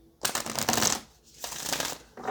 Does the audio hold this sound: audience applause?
no